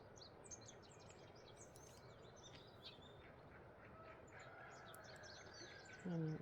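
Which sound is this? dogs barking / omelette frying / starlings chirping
starlings chirping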